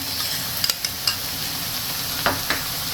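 A tadka of spices fries in a pan with a steady, close hiss of oil, broken by a few light clicks and taps as it is stirred.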